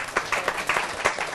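Studio audience clapping together in a TV studio, a brief, steady burst of close, dense applause.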